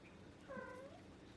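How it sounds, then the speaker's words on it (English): A small cat gives one soft, short meow in a quiet room, clear and close with slight background hiss. "that was such a cute little meow"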